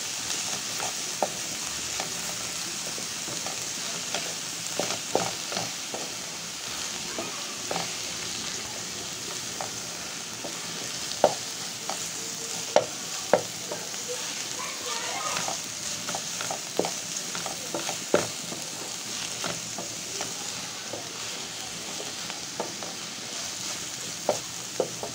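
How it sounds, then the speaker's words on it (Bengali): Kolmi greens stir-fried in a pan, a sustained sizzle with frequent scraping and tapping of the spatula at irregular intervals throughout, moderately close and free of speech. "পাঁচ মিনিট আমি নাড়াচাড়া করে ভেজে নিব"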